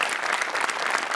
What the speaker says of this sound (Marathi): त्यामुळे मोठेसाठी एकदा जोरदार टाळ्या.